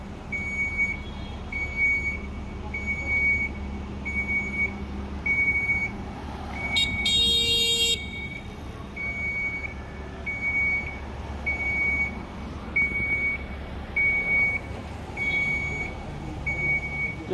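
A Segway P100S electric scooter beeps repeatedly in short electronic tones at a steady rhythm, with a brief burst of louder rapid beeping partway through, over low outdoor rumble.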